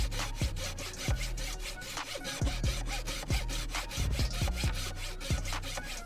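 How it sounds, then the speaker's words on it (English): A hacksaw cuts through a plastic intake pipe on a Smart 451 in quick back-and-forth strokes, each pass a rasping scrape, about two per second, close and clear with no talking. "I resorted to the old hacksaw."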